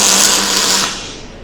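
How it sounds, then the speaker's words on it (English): Welding the last parts of a hopper for a Trident machine on a bench in a small welding bay: a loud, steady, crackling hiss that holds for most of a second, then eases and tapers off. "he is welding up the last parts for the hopper for the Trident machine"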